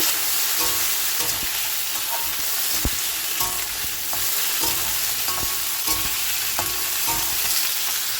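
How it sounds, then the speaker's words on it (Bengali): Steady frying sizzle with clinks and scrapes of a spatula stirring papaya and potato in a pan, continuous throughout. "পেঁপে আলুটা ভাজা ভাজা হয়ে গেছে"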